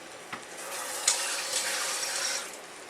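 Kitchen tap running into a pot for cooking beef stew, a steady close hiss of flowing water lasting a few seconds before easing off.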